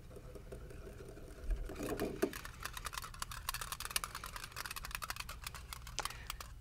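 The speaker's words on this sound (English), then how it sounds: "Now I'm just going to whisk them all together." A whisk clicks rapidly against a bowl while Caesar dressing ingredients, including black pepper and salt, are beaten together, giving close, quiet, fast ticking strokes after a brief opening clatter.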